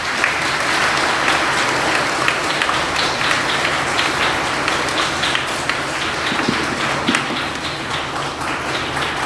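A congregation at a Catholic deacon ordination in Simdega Diocese breaks into sustained applause, a thick, even roar of many hands that continues loudly without letup for the whole stretch.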